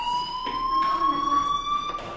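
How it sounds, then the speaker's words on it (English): A fire alarm rings in the Life is Strange video game, a steady high electronic tone with harmonic overtones sounding continuously at moderate loudness, with faint background game ambience. "Hey, do you hear that fire alarm?"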